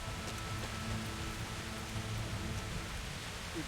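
Pouring rain in the medieval role-playing game Kingdom Come: Deliverance, a steady soft hiss of rainfall, even and continuous, fairly quiet and with no other sounds standing out.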